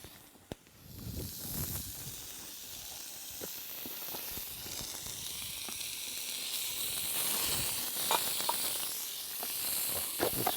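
Vegetables sizzle in a pan over a campfire outdoors in the Victorian Alps, a steady frying hiss that grows slightly louder, with occasional clinks and scrapes of stirring.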